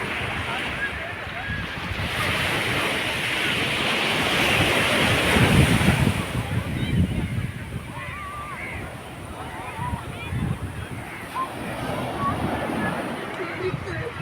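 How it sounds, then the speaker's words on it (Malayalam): Muddy sea waves roll in and crash at Veli beach, a loud continuous roar of surf with wind buffeting the microphone, swelling mid-way then settling into a steady wash. "നല്ല കലങ്ങിയടിച്ച് വരുന്ന തിരമാലകൾ"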